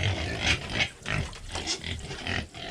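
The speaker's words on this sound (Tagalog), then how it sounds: "Paanak din na itong baboy na ito eh." A sow that has farrowed grunts on a family farm in Batangas, a run of close, repeated throaty grunts and snorts in uneven bursts, with no talk.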